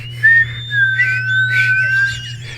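Someone whistles through their teeth, a thin high sliding tone held for about two seconds, close and loud against a low steady hum, with no talking.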